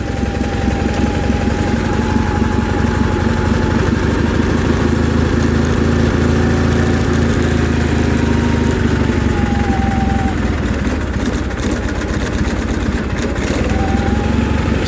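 A John Deere 316 garden tractor engine runs steadily at a warm idle, a loud, continuous mechanical drone with no break throughout.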